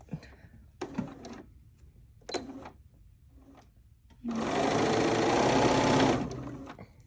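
A sewing machine stitching quilt pieces: a few short bursts of stitching, then a sustained run of rapid, steady whirring and needle clatter lasting about two seconds, close and fairly loud before stopping.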